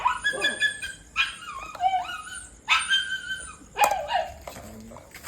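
Dogs at feeding time at an ashram whine, yip and bark in excited bursts close by, with a voice talking between them.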